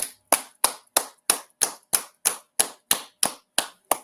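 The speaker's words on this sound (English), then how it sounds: "Clap it up." Thirteen sharp, evenly spaced hand claps from one person, crisp and close with a bright snap, each ringing briefly before the next, no voices.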